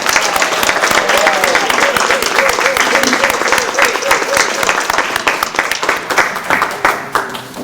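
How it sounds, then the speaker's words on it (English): An audience at a literacy program tutor recognition event bursts into sustained, loud applause, many hands clapping continuously for several seconds before beginning to taper off. "Let's give them a round of applause."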